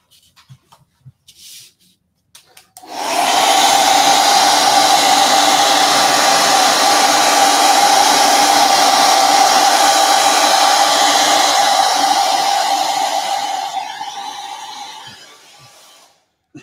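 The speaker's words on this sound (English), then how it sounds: "Hair dryer." A hair dryer blows steadily for about twelve seconds, a loud continuous whooshing hum with a droning tone, then switches off, leaving near silence.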